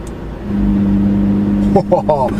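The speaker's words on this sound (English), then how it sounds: "Check the exhaust difference out when you put it in sport." Lamborghini Aventador engine in sport mode, a steady loud idle drone that breaks into short revving bursts near the end, with a voice talking over part of it.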